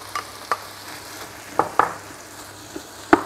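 Diced carrot is stir-fried in a pan: a spatula scrapes and clacks now and then, with several sharp taps spaced over a few seconds against a quiet background.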